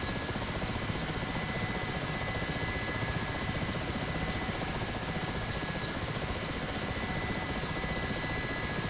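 A Mi-8 helicopter in the DCS World flight simulator drones continuously, its turbine and rotor noise loud and unbroken throughout, with no voices over it.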